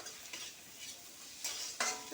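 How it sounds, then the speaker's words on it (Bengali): Whole garlic cloves, onion and half a tomato are stirred lightly in a hot pan for a prawn dish, with a spoon scraping in a few bursts over a quiet sizzle, and no voices. "তো আমি এটা নেড়ে নিলাম হালকা করে"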